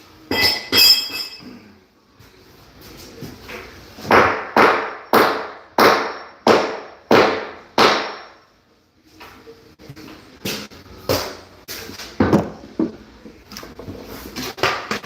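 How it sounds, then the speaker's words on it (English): A series of sharp, ringing knocks, roughly a dozen hammer blows in uneven bursts with short pauses, close and loud, as vinyl flooring is hammered into place. "I'm gonna have to beat that one in with a hammer."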